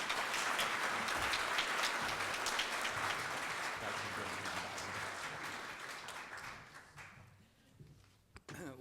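An audience applauds as Ambassador Dennis Ross is welcomed to a Council talk: dense, sustained clapping from a crowd that fades out toward the end.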